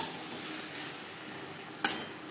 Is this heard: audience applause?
no